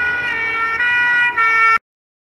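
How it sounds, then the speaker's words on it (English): An enchanted ambulance siren wails loud and close in a steady sustained tone, then cuts off abruptly, with no talking. "My friend, Harry, quickly cast a spell to summon an enchanted ambulance"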